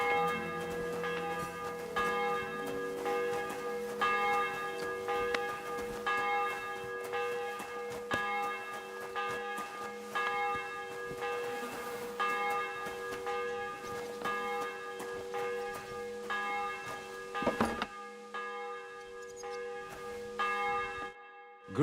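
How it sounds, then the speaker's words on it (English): Church bell in Kingdom Come: Deliverance 2 tolling in slow, steady repeated strokes, each ringing on with long overlapping harmonic decay, loud and sustained with no talk over it. "The bell's ringing for Hans the 5th time."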